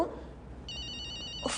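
A telephone bell rings in a home, a short electronic trill heard alone and fairly loud, with a brief voice or noise just before it starts.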